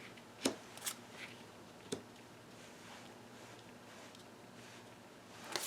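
Tarot cards being shuffled by hand, with a few soft, crisp riffles and flicks spaced apart against a quiet room background.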